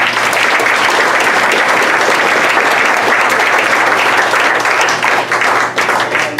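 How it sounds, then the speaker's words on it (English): A forum audience gives a steady, full round of applause for the panelists, dense clapping sustained and fairly loud throughout before tapering slightly near the end. "if we could have a round of applause for them"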